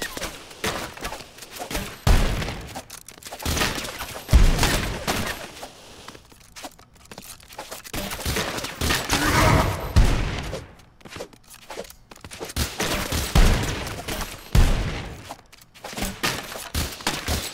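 Gunfire in the video game Rounds, with repeated bursts of shots and impacts of uneven rhythm and loudness, mixed with thuds and busy game noise throughout.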